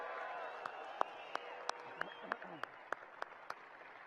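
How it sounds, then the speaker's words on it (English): Scattered, sparse hand claps from an audience honoring singers and dancers at an evening event, roughly a dozen distinct claps spaced unevenly, with a murmur of voices underneath. "Let's have one more big round of applause for those singers and dancers"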